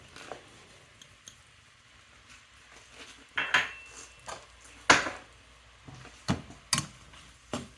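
Peppers, onions, celery, parsley and garlic are stirred in a pan, with a utensil scraping and clinking against the metal in irregular sharp knocks over a quiet background.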